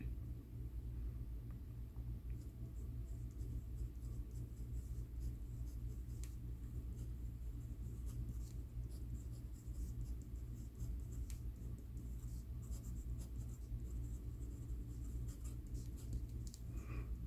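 A pen writing on paper, heard as faint continuous scratching strokes over a steady low rumble of room noise throughout.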